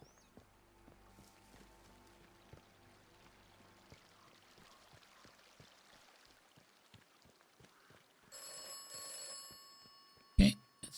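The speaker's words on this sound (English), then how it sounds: "let's answer the phone and get our next clue or whatever" Telephone ringing in the video game Atomfall, a faint electronic ring rising late over quiet ambience and light tapping, ending with a sharp clunk.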